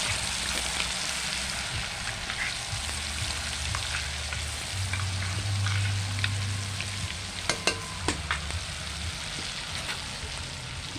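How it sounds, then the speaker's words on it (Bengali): Mustard paste with green chilli fries in hot oil for data chorchori, a steady close sizzle and crackle with stirring scrapes and a few sharp clinks of a utensil near the end, without any talking. "তেল গরম হয়ে গেছে, এখন সর্ষে কটা দিয়ে দেবো"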